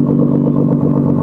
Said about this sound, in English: Can't wait to hear the exhaust.